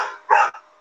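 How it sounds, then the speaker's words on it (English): A single short dog bark, muffled and fairly distant in the background, followed by a faint trailing yelp, with no talking. "We can hear some dogs there in the background."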